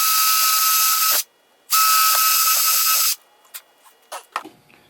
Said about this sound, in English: I can drill.